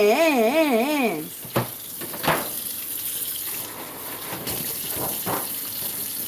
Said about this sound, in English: Wash them hands, y'all.